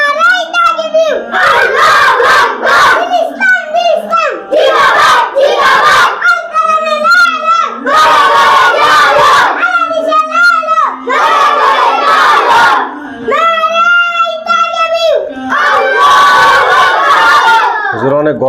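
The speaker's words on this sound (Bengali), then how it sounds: "তাহলে একটা স্লোগান হবে, নারায়ে তাকবীর।" A large group of children loudly chant the Islamic slogan Naraye Takbir in unison, in repeated shouted bursts with brief pauses, like a crowd battle cry, close and intense.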